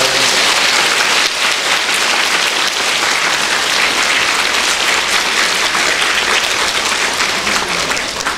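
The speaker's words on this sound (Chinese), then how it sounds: "让我们再以热烈的掌声" A lecture-hall audience at a university Q&A session applauds loudly and steadily, a dense wash of clapping that holds for the whole stretch with no voices over it.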